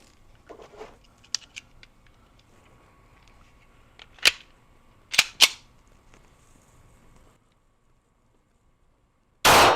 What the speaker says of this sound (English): Let's see how we do with live fire.